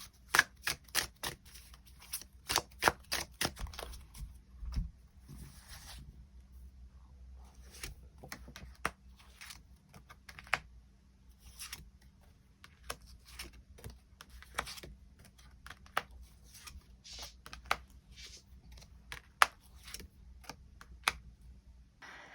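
Tarot cards are shuffled and drawn in a quiet room, giving a long run of soft, crisp card snaps and flicks, irregular and close, with short pauses between bursts.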